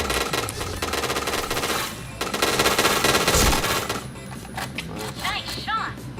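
Gunfire in a shooter video game rattles in dense, rapid automatic bursts that sound close and loud, with voices talking over the shooting.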